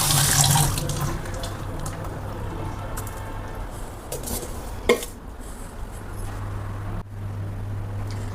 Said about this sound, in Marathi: यावर थोडं थंड पाणी घालतोय।